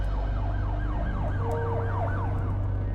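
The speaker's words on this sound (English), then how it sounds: "A sound of sirens in the distance came closer." Emergency sirens wailing in a rising and falling pattern over a steady low rumble, growing gradually as they approach from a distance.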